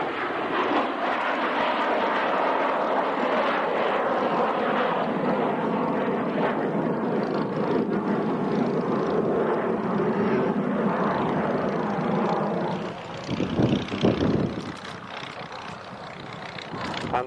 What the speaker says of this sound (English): And the P-63 just coming back into land.